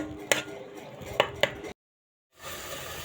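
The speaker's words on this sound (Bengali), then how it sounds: "এভাবে সবগুলো মশলা একসঙ্গে মিশিয়ে নিব" Spices for a poa fish curry being mixed in a bowl, heard as three sharp utensil taps and scrapes up close, followed by a sudden stretch of silence and then a low, steady hiss.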